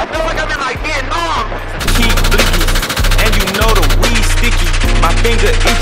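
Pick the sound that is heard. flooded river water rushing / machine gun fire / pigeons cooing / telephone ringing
machine gun fire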